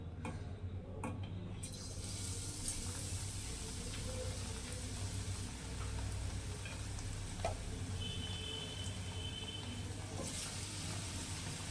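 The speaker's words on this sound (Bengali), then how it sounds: "কড়াইয়ের তেলটা গরম হয়ে গেছে এবার বেগুনি বেগুনগুলো বেসনে ডুবিয়ে ছেড়ে দেব" Gram flour battered eggplant slices frying in a wok of hot oil, giving a steady, moderately quiet sizzle and crackle with a few faint clicks of stirring, no talking.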